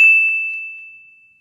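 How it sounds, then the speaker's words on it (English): A single bright notification bell dings once, sharp and clear, then rings out in a long, smoothly fading tone with nothing else heard. "ring the bell to be notified for our latest video"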